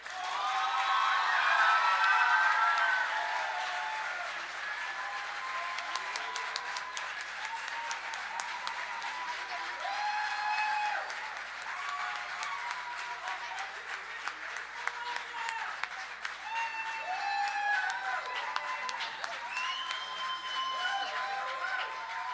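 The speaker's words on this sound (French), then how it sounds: "On les applaudit!" Sustained audience applause at a Secondaire en spectacle 2025 high-school talent show as all the participants come onstage, loudest in the first few seconds then steady dense clapping with a voice or two over it.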